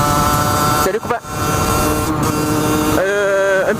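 A Beta Track 50cc motorcycle with stock exhaust and carburettor and a 12-tooth sprocket, its two-stroke engine idling and revving nearby in a buzzing drone that dips briefly then rises, with someone talking over it.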